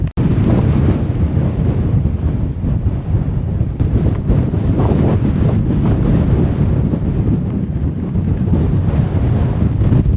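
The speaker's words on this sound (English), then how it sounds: "The wind's definitely got gustier, picking up." Strong, gusty wind buffets the microphone on an exposed Scottish mountain summit, a loud continuous low roar swelling and easing in gusts throughout, with no voices.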